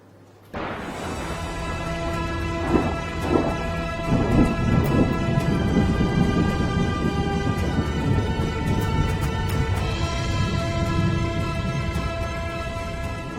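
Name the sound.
heavy rain with thunder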